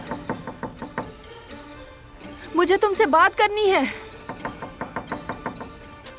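A door is knocked on in a steady run of sharp raps before and after someone speaks, her voice taking over the middle of the stretch.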